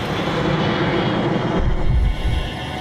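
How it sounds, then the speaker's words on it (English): An Airbus airliner, landing far faster than normal, is forced nose-down onto the runway, giving a loud, continuous roar of engine and rushing air that swells with deep rumbling toward the end. "Captain Waters pushes the nose down, forcing the Airbus onto the runway"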